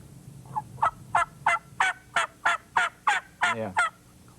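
A walking yelp on a turkey call, about ten evenly spaced, sharp yelping notes in a quick steady rhythm, close and clear over a quiet background.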